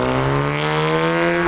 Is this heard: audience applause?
no